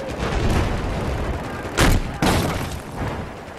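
Rockets and gunfire in a combat video game assault on Golmud: loud booming blasts and rolling explosion rumble, with two sharp heavy impacts in quick succession amid continuous battle noise.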